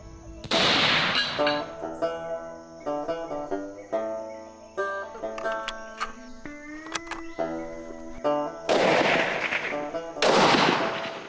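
A rifle fires during a hunt in South Africa, heard as two loud, rumbling blasts with a long decay, one at the start and one near the end. Steady tonal insect or ambient hum continues between them.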